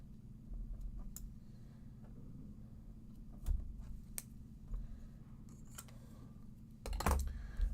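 Scissors snipping back craft decorations with a few sharp, separate cuts over a steady low background hum, close and fairly quiet.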